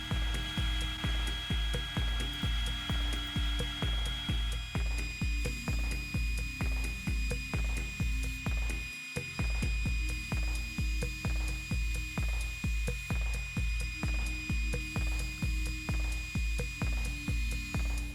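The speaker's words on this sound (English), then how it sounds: "Once the marks were removed, I switched to a higher grit sandpaper." Sandpaper worked back and forth across a walnut end grain cutting board at 80 to 220 grit, a steady rhythmic scraping with regular strokes that continues for the whole stretch, loud and close, pausing briefly once midway.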